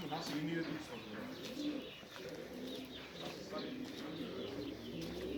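Pigeons coo softly and repeatedly inside a flight coop in Kayseri, with occasional chirps and faint voices in the background.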